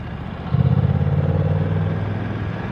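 BMW F900R motorcycle engine on a test ride: a close, throbbing mid-pitched engine note that picks up sharply after a brief lull, pulsing rhythmically as it revs, then easing slightly toward the end.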